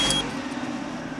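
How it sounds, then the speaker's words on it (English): A Peugeot 307 engine is heard just after starting, settling into a low, steady idle hum inside the car over a little more than a second, with a brief high electronic tone at the start. "So when you start the engine,"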